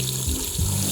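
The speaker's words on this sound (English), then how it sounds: "I always make sure I thoroughly rinse my toothbrush off in case my gums have bled" Tap water runs over a toothbrush being rinsed at a sink, a brief, close, steady splashing stream.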